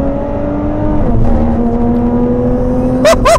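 A Lotus Evora 410 GT Sport's engine drones steadily while driving, heard from inside the car, with a shift in pitch partway through and two sharp high bursts at the end.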